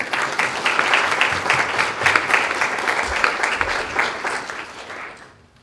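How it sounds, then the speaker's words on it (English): Audience at a health equity conference keynote panel applauds, dense steady clapping from a large crowd that stays strong before fading away at the end. "Let's just give them a round of applause"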